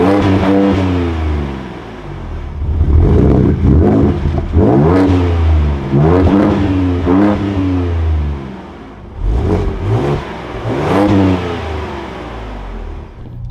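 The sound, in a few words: 2024 Ford Ranger Raptor engine starting up and revving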